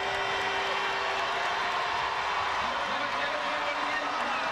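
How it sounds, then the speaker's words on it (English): A large stadium crowd at the Penn Relays track meet roars steadily through a women's 4x400 relay as runners round the bend, a dense continuous wash of cheering with a commentator speaking over it. "Listen to that crowd as they come around the bend."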